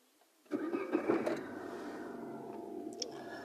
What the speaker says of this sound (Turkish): Aracımızı çalıştırıyoruz.